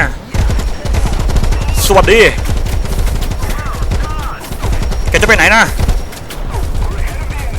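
Gunfire in the War Thunder video game, rapid rattling bursts of automatic fire over a rumbling tank engine, with two sharper loud blasts standing out and a voice speaking over the action.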